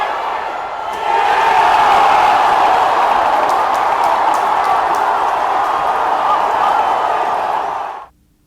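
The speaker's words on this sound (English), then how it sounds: "despite the significantly reduced crowd numbers, the enthusiasm from fans was there" A sports crowd at a stadium, reduced in number but enthusiastic, cheers and roars in a steady, loud wash for several seconds before fading out abruptly.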